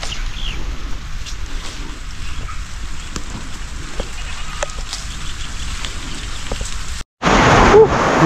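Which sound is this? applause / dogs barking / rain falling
rain falling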